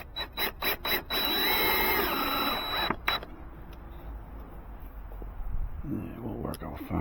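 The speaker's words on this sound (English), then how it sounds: "now I'm going to put in the 6 screws, start at the top 2" A power drill drives 2.5-inch screws into a 1x4 deck board during a rotting deck repair: a few short bursts, then a sustained whirring grind for about two seconds, then quieter handling noise, close by.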